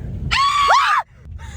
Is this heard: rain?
no